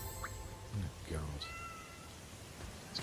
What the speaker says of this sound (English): It's a cute cat there.